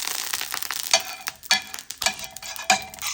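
Beef tallow sizzles and crackles in a hot pan over medium-low heat, a bright, crisp frying hiss with repeated surges and pops as the fat spatters, heard up close.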